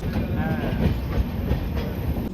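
Humsafar train 13115 runs on the rails with a close, continuous rumble and faint clatter of the wheels, heard over a short stretch.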